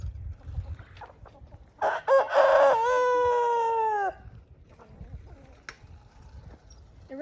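A rooster crows once, loud and close, a long drawn-out call lasting about two seconds, with quiet outdoor background before and after.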